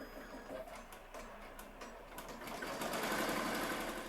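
Embroidery machine stitching a 3D puff patch with metallic thread at about 700 stitches per minute, a steady fast mechanical whir and rapid needle clatter that grows slightly louder toward the end, with no talking.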